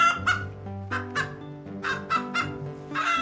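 Hens cluck on a farm that keeps about 50,000 chickens alongside dairy cows. Repeated loud, close clucks come in uneven bursts over a busy background of more birds, with no talking.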